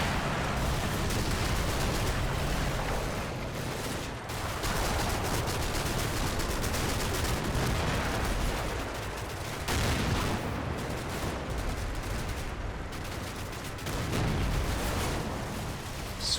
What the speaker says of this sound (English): the second Firefly has taken up a position on the main road, where it begins shelling any houses that show signs of resistance